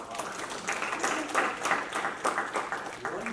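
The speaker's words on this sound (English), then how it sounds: "Let's give her a round of" Faint, thin audience applause after a veterinary presentation on guttural pouch mycosis in horses, scattered claps in uneven bursts from a small group.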